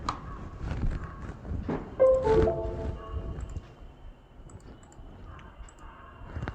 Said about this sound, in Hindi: U5 बॉक्स में इसको हम फिट कर देते हैं, बंद कर देते हैं और इसको कनेक्ट करते हैं।